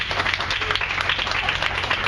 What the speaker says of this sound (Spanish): Digamos amén, hermano, con un aplauso.